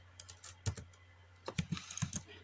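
Quiet typing on a computer keyboard while entering a Windows format command, with scattered key clicks and a short burst of rapid keystrokes near the end, close and faint, with no talking.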